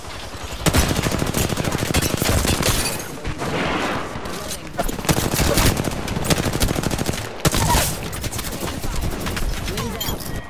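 Dense, loud gunfire in an Apex Legends battle royale match, with rapid automatic bursts and heavy shots nearly continuous throughout, mixed with in-game voice callouts.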